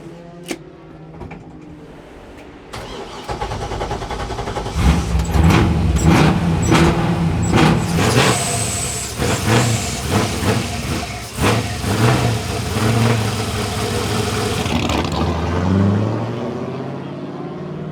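A Nissan 350Z GT race car with a drift setup cranks, fires and settles into a loud, rough running engine with revs rising and falling, recorded up close and with no talking over it.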